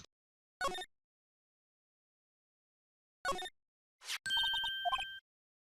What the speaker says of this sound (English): Here, a phone.